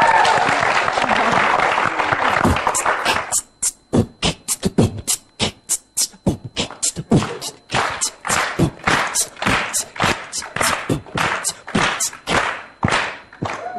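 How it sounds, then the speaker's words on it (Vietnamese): Applause from a crowd begins dense and continuous, then thins into a rhythmic series of loud, distinct claps and thumps with gaps between them. "Xin mời các bạn vỗ tay cho Johnny."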